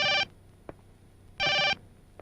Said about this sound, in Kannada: ಇಲ್ಲದೆ ಇದ್ರೆ ಫೋನ್ ಹೊಡ್ಕೋತಾನೆ ಇರುತ್ತೆ.